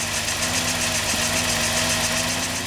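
Idling engine of a 1991 Peugeot 605 3.0, heard as a steady, fairly loud mechanical hum with a low rhythmic throb and an even tone, running alone with no voices.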